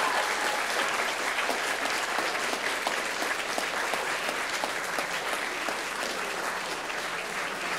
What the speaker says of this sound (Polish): Proponuję gromkie brawa dla zwycięzcy.